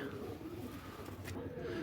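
Pigeons coo softly and faintly, with a low murmuring warble amid background noise and someone talking nearby.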